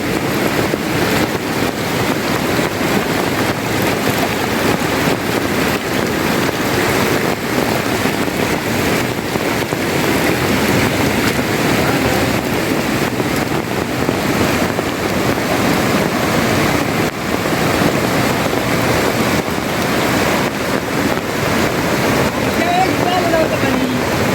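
Floodwater of a swollen Konkan river during heavy monsoon rain rushes in a steady, unbroken broadband roar, close and loud, with faint voices of gathering onlookers mixed in.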